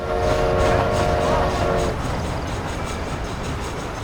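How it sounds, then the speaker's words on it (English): A train in the Red Dead Redemption video game rumbles steadily with rolling rail noise, and a tonal whistle or horn sounds during the first two seconds over the continuous clatter. "I decided it's best to take the train back to Armadillo to rest up"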